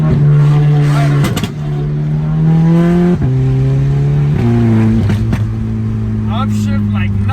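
A car with an APR stage 2 TCU tune accelerates hard, its loud engine note climbing and then dropping sharply with each quick upshift, several shifts in a row, close inside the cabin.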